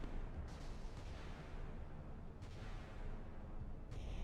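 Naval missile launches and intercepts in the game Sea Power, a low rumbling roar of sustained fire with a few sharper bursts, heard at a distance and fairly faint.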